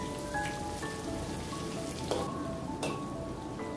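Onions fry in oil in a pan with a steady, soft sizzle and scattered crackles throughout, fairly quiet with no talking.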